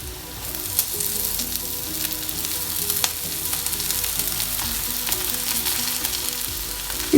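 Onions and chopped pumpkin leaves sizzle steadily in a hot pan for a Kerala-style stir fry, a close, even crackle with occasional soft stirring scrapes.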